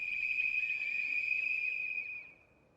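A single steady whistled tone held for about two seconds, clear and fairly close, with a slight warble before it fades out, heard alone in a zombie survival game.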